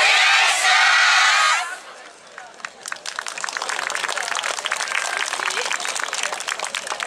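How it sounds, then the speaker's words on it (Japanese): Audience at the Inuyama Dance Festival 2016, main stage at Ishizukuri Park: a loud burst of crowd noise fades into steady rhythmic hand clapping in time with the dance. "手拍子のほどよろしくお願いいたします"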